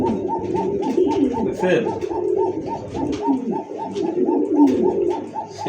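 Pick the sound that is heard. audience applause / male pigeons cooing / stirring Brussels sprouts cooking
male pigeons cooing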